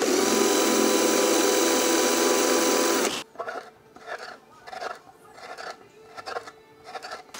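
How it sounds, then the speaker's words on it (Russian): A drill bores into a wooden plug fitted in a nineteenth-century violin, first a loud steady whine, then a series of shorter bursts with pauses between them, close up. "Пробочка готова. Сейчас мы ее просверлим"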